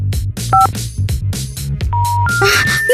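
Touch-tone keypad beeps from a phone found during a Five Nights at Freddy's style real-life night with animatronics, several distinct tones pressed in quick uneven succession, loud and close over low background rumble.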